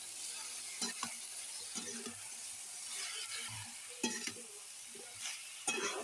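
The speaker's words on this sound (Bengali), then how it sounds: "আবার নেড়ে দিচ্ছি ভালো করে।" Salted food frying in oil in a pan is stirred, giving soft, steady sizzling with occasional louder scraping and clinking strokes of the spoon, fairly quiet and close, without speech.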